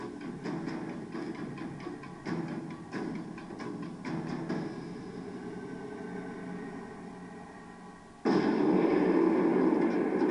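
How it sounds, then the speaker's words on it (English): Explosives detonate beneath a Marauder armoured vehicle. Scattered sharp ticks and pops come first, then a sudden loud blast that keeps roaring to the end. "what happens to the Marauder when you put the same amount of explosives underneath it?"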